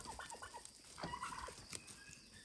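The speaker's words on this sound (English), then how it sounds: "So I got two more turkeys." Turkeys gobble and cluck nearby, a rapid burst of warbling calls followed by scattered clucks, fairly quiet with outdoor background.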